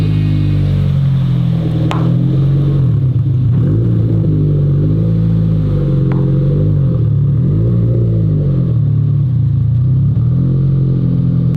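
A turbocharged car drives around a block, its engine rumbling loudly and close from inside the cabin, rising and falling in pitch as it accelerates and eases off, with a couple of sharp clicks.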